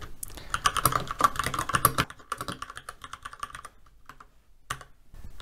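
Computer keyboard typing while coding, with fast, dense bursts of clicks for about two seconds, then sparser, lighter keystrokes with short pauses, all close and alone without speech.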